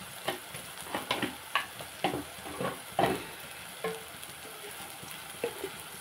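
Red chili powder sizzles as it hits hot oil in a pan, a steady close frying hiss broken by a run of sharp, regular scraping clicks from stirring.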